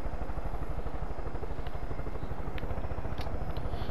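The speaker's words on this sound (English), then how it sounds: "And we're somehow back in the helicopter." A helicopter in Far Cry 5, its rotor thumping in a fast, even pulse under a steady whine, close and constant with no voices.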